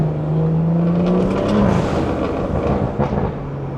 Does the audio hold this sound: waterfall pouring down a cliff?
no